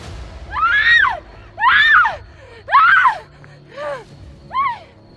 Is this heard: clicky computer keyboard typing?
no